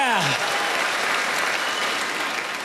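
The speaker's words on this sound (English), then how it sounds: "You applauded for beaver tails." Audience at a Just for Laughs standup comedy show in Montreal bursts into loud, sustained applause that fills the whole moment, with a brief voice at the very start.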